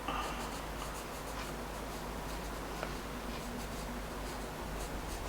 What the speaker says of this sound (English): I think I'll go around it with the Stabilo pencil